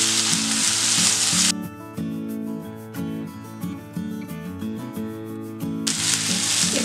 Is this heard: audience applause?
no